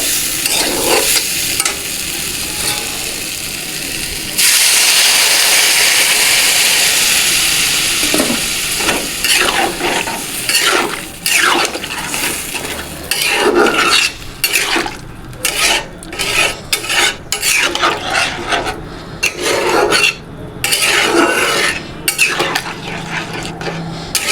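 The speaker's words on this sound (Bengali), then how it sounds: "সয়াবিনগুলো দিয়ে ভালো করে নাড়াচাড়া করে নিলাম। এবার জল দিয়ে দেব।" A soybean curry cooks in a pan at home: spatula scrapes and stirs, then a sudden loud hiss as water hits the hot pan, followed by a long run of rhythmic, close scraping strokes over a steady sizzle.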